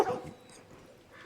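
A dog whines in a video game, a short faint whimper at the start that fades into soft background noise.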